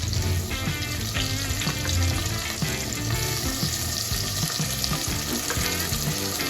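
Potatoes and chopped onion fry in oil for biryani, giving a steady, close sizzle that runs the whole time under a layer of tonal, music-like sound.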